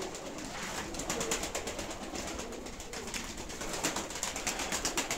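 Soft cooing from several tumbler pigeons close by, with repeated wing flutters and rustling, low-pitched calls rising and falling in a gentle rhythm.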